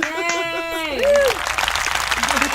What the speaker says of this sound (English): Does she get applause for that?